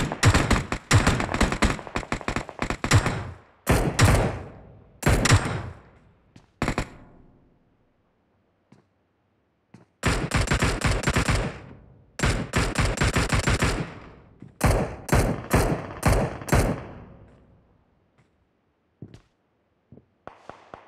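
Video game gunfire in an apartment fire shootout, rapid automatic bursts and single shots in loud clusters separated by quiet gaps, close and dry with no talking.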